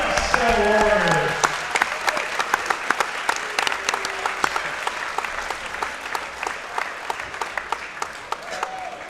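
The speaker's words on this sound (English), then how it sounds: "Please join me in giving these guys a big round of applause." A gym crowd at a Wes-Del boys basketball game applauds the 2003 sectional champion team, with dense clapping and cheering that starts loud and holds steady for about nine seconds as an announcer talks briefly over the start.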